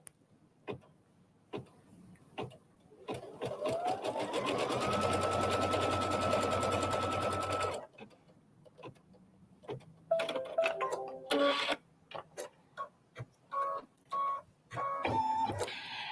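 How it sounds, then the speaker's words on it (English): Domestic sewing machine stitching a quilt applique runs in one steady sustained burst of rapid needle chatter, then stops; scattered handling clicks and light rustling of fabric follow. "push this back into the machine and begin stitching."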